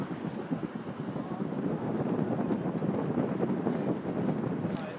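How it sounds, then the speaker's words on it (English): Strong wind gusts across Tower Bridge in London, a steady, loud roaring rush buffeting the microphone close up for the whole stretch, with no voices over it. "It is windy."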